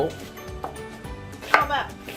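A knife chops ingredients on a board for a spicy Indian dish cooked from a packet mix. The cuts come as uneven, close, dull taps, with a faint clink of cookware and no talking.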